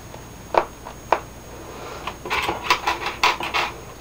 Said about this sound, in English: that sound is my ribbon being poked, not my hair